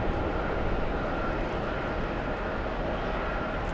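A Delta airliner arriving from Salt Lake City produces a steady, broad jet roar at moderate distance, continuous and unbroken.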